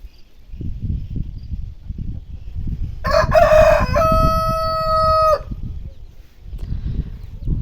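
A rooster crows once, loud and close, its long harmonic call cutting through constant low rustling and outdoor background noise.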